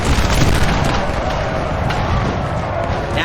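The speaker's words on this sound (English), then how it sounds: "Got the artillery shooting overhead." Artillery fire rumbles through a large Napoleon Total War battle as a continuous, heavy roar of booms and distant blasts layered together, loud and unbroken.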